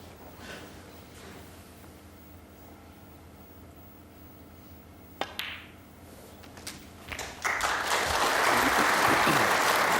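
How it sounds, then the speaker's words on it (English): Snooker spectators at the 2002 World Championship semi-final between O'Sullivan and Hendry break into polite applause after a simple pink, swelling from a quiet, hushed arena into a steady wash of clapping. "Knowledgeable applause"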